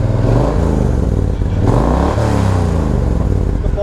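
A 2017 Triumph Thunderbird motorcycle revving close by, its loud engine rising and falling through throttle blips with sharp crackling exhaust pops, no talking over it.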